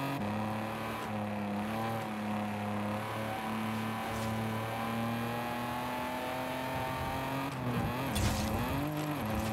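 Car engine in the Forza Horizon 5 racing game, a continuous droning hum with shifting revs and a brief surge and tire scrub near the end, steady and prominent without talk.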